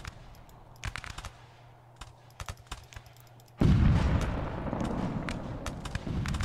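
A cannon in the Revolutionary War game Rise of Liberty booms with a sudden heavy blast midway, followed by a long rumbling decay, after scattered sharp musket-like cracks and a low hum earlier.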